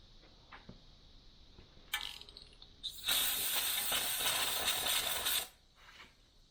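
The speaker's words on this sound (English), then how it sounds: "I'm going to run it in and out of there quite a bit so I can spray the metal shavings off." A quiet mechanical whir with a brief hiss, then a loud sustained blast of compressed air for a couple of seconds before cutting off, blowing metal shavings out of a freshly drilled and tapped hole in a Lincoln MKX / Ford Edge PTU.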